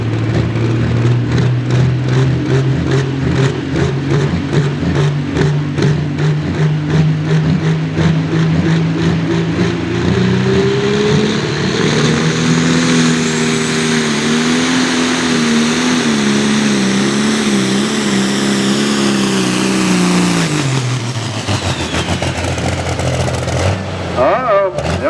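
Turbocharged tractor in a pulling competition at Boonsboro, its engine roaring loud and close for about twenty seconds, pitch rising and straining under load before cutting off near the end, with an announcer talking over it.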